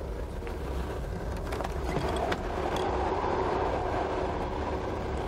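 A luxury railway carriage rolls along the rails with a steady, close rumble and faint rattling that carries on without a break and without voices.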